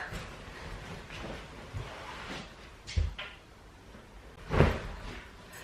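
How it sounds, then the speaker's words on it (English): An indoor door pushed shut, a soft knock followed by a louder closing thud near the end, heard close over a quiet room with no voices. "I'm just gonna go shut that door."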